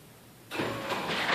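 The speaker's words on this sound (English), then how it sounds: "you can hear the garage door being opened." A smart garage door opener starts up, a motor hum kicking in abruptly after a quiet half-second and running steadily, close and moderate in level, with no talk.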